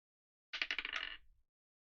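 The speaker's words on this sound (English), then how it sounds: "Let's roll a dice." Dice clatter and tumble across a tabletop during a role-playing game session, a quick rattle of several bouncing hits lasting about a second before settling, close and alone.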